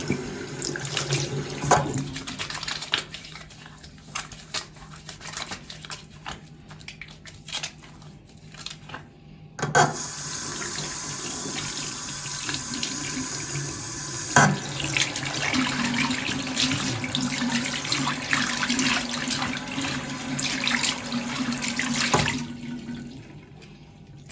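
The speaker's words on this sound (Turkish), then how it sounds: "Ellerimle yıkayayım" A home tap runs for hand washing, a steady close stream of water with splashes and brief interruptions, no one speaking.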